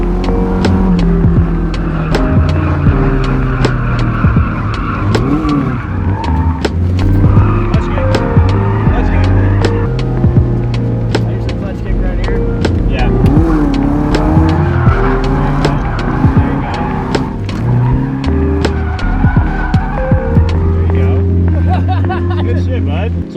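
A Nissan 240 coupe drifts at a Thunderhill Raceway drift event. The engine is loud and close, rising and falling through gear changes, with repeated tire squeals and skidding across the whole run.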